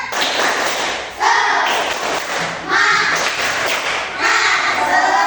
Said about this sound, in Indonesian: Sekarang kita tepuk semangat dulu. Tepuk semangat.